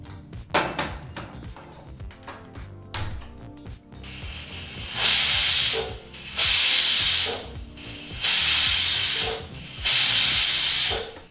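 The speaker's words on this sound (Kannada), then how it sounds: "ಈಗಲ್ಲಿ ನಾವು 4 ವಿಸಲ್ ಬರೋವರೆಗೂ ಕುಕ್ಕರ್ನ ಕೂಗಿಸ್ಕೊಂಡಿದ್ದೀವಿ" A pressure cooker cooking dal with greens and vegetables lets out loud, steady hissing whistles in four long bursts with short pauses between them, after a stretch of clattering kitchen sounds.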